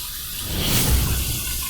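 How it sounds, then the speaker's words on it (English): Running water splashes at a sink during a cold rinse after a shave. A brief close rush swells in the middle and then eases, with no talk. "Boy, that was a really, really invigorating cold water rinse."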